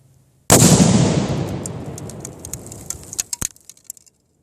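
A Tannerite charge packed with golf balls detonates in one loud, close blast that rolls and decays over a few seconds, followed by scattered sharp cracks and clatters of debris landing.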